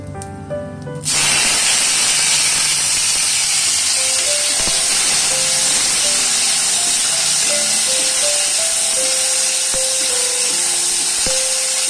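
Chopped tomatoes drop into a hot pan with fish head and cardamom, setting off a loud, steady sizzle and steam hiss that runs without a break for about eleven seconds, with a few light utensil clinks.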